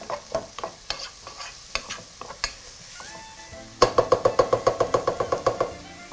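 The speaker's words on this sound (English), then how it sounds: "allowing your onions to actually sweat out their juices" Onions sweat in a pan over raised heat, with a steady sizzle under repeated rhythmic scrapes and knocks of a stirring utensil against the pan, close and fairly loud.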